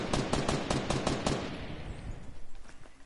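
Rapid bursts of automatic gunfire in a PS4 shooter game, a dense rattling volley for over a second that thins into scattered, fainter shots and echoing tails.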